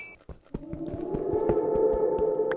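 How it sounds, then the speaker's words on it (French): A cave dweller creature in a Minecraft cave, a low eerie drawn-out moaning wail that swells under scattered clicks and taps of block breaking, faint and echoing with no talk. "Et je crois que c'est un bruit du cave dweller."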